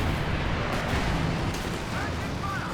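Anti-tank aircraft strafe attack in Company of Heroes 2, a dense rumbling barrage of cannon fire and explosions that stays loud and continuous throughout, with a voice talking over it.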